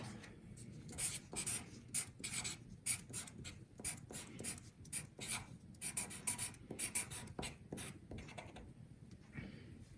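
A pen or marker scratching across paper in short, rhythmic strokes, close and fairly quiet, with no talking.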